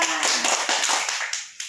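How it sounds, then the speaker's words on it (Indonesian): Applause from schoolchildren in a classroom, a short burst of clapping that quickly thins to a few scattered claps and dies away. "tepuk tangan buat Aisyah"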